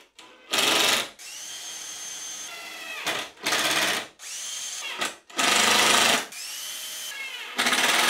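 A power drill drives screws into the stretchers joining two wooden Adirondack chair frames, running in several loud bursts of a second or so each, separated by short pauses, with no talk.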